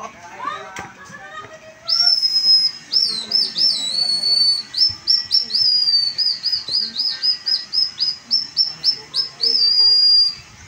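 A bamboo bird whistle gives a high, warbling whistle in rapid bird-like trills, mimicking bird calls, at a Palaw'an tribal village, with children's voices and chatter faintly in the background.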